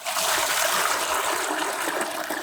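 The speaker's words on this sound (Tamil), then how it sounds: "அவங்க தண்ணியை ஊற்றிக்கிறோம்." Water gushes from a vessel into an idli pot to boil radish, a loud, steady splashing pour that runs without a break and with no voices.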